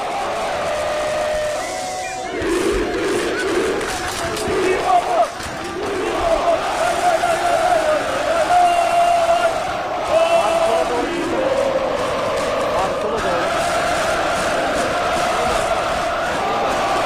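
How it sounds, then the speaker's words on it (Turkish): Galatasaray supporters in Istanbul chant a rhythmic üçlü cheer led by a Spanish striker, a loud, dense crowd roar rising and falling in waves with shouted voices layered throughout. "Galatasaray ve ilk üçlüsünü çektiriyor İspanyol oyuncu."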